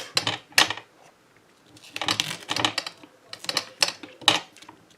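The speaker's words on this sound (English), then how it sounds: "We're making some noise in here with these scissors." Scissors snip through paper card during slimline tilt-card making, sharp crisp cuts that come in short bursts of two or three with quiet gaps between, close and fairly soft.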